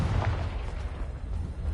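A dense, rumbling blast from the Confringo fire spell in Hogwarts Legacy, loud and sustained with a brief crackling burst near the start and no voice over it.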